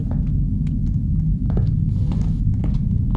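A low, steady train rumble in the video game MIMIC drones throughout, with faint clicks and scattered sounds on top.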